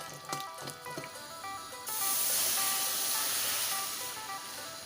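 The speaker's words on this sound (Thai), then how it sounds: "ทอดให้พอง กรอบเลยครับ นี่เป็นพริกแห้งนะครับ" Steady bubbling sizzle of dried chilies frying in hot oil, loud and close, with a few light clinks early before the hiss swells and holds.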